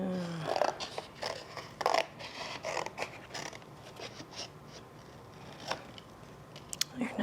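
Scissors cutting out a paper astronaut: scattered snips and paper rustles at irregular intervals, fairly faint and close, with quiet room noise in between.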